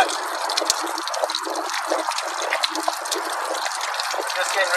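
Water drains through an opened valve on a US Jetting 4018 jetting machine, a steady, close rushing gush with no pauses that runs for the whole stretch.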